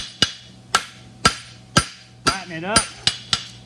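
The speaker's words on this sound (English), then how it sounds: "I can just come back here with the heel of my hammer and just straighten it up straight across" Hammer heel striking a mushroom trotter horseshoe to straighten it, eight sharp ringing metallic blows in a steady rhythm, close and loud, with a brief spoken phrase between strikes.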